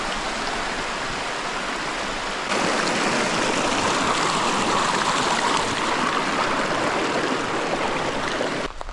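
A mountain stream rushes at a trail crossing in New Hampshire's White Mountains, a loud, steady broadband roar of water that grows fuller partway through and runs on without a break.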